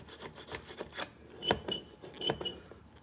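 Brass brush scraping oxidation off the stainless steel mirror housing of a 1994 Mercedes C280 W202, a close series of rough, rasping scrubs with sharper bursts midway and near the end.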